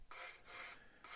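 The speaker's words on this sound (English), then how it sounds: "Be careful, let the sander do the work." A steady rasping scrape from a sander working down the seam on a Revell Lockheed Ventura PV-1 plastic model kit, in three rhythmic strokes, close and faint, with no talk.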